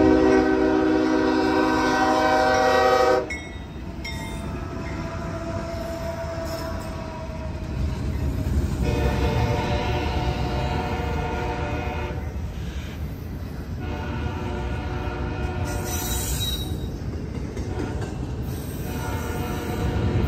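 CSX I-116, an eastbound freight train, blasts a loud horn, then rumbles steadily past nearby with continuous wheel and car noise for a long stretch.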